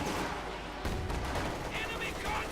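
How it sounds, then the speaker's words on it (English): Dense, continuous gunfire and battle noise from MG-34 machine guns and heavy machine gun crews in Company of Heroes 2, filling the background with rapid bursts while a voice commentates over it. "we got MG-34s being up forward here by Obersoldaten and heavy machine gun crews"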